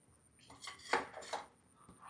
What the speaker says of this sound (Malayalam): മറ്റു മൂടിപ്പാത്രം എടുത്തു മറിച്ചിട്